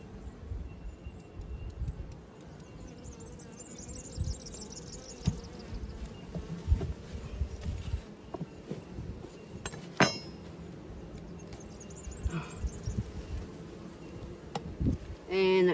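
Bees humming around an opened top bar hive during an inspection, a constant low drone with occasional louder passes near the ear, plus scattered clinks and bumps of handling the bars.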